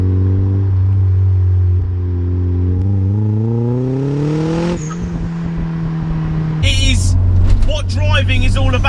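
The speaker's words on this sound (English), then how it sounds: "this car now absolutely sings to you through the B-road" Turbocharged Mazda MX5 pulling hard along a B-road, engine note climbing steadily through the revs, dropping on a gear change, then rising again, loud and close from inside the cabin, with a voice talking briefly near the end.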